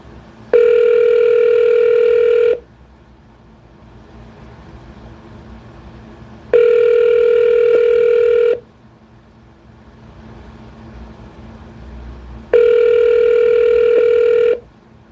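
Phone line tone while placing a call: three steady two-second tone bursts separated by quiet gaps, loud and clear over faint background hiss.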